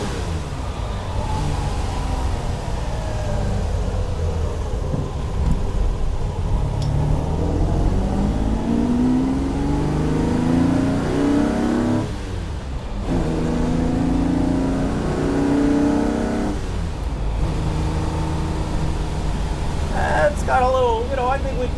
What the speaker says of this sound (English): I think we're going to try to see if I just try to feel the acceleration on this car